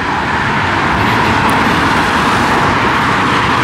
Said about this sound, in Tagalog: At 134 freeway yan.